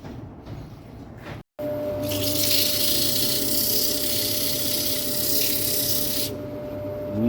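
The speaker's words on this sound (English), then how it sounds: "Not going to make you watch all the sanding." An old apple wood bowl being sanded on a lathe, a steady loud abrasive hiss and rasp sustained for several seconds over a constant motor hum, after a brief cut.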